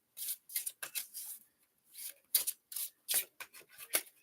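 Tarot cards being shuffled by hand, a series of quick, crisp riffling bursts in an irregular rhythm, close and fairly quiet, with brief pauses between shuffles and no talking.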